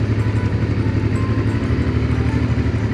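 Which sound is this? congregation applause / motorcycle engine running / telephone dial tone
motorcycle engine running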